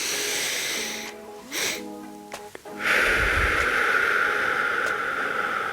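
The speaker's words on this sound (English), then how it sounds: "This is a double inhale followed by a long exhale." Breathing exercise with a double inhale through the nose followed by a long, steady exhale, close and clear, with no talk over it.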